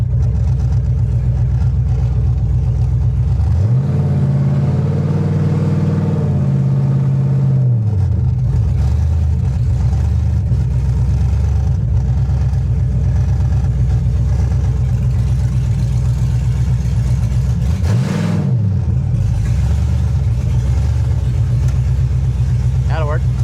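A Chevrolet S10 truck running a Holley Terminator X setup pulls in with a steady mid-pitched engine hum. Two distinct swells of revving rise above it, and people talk nearby.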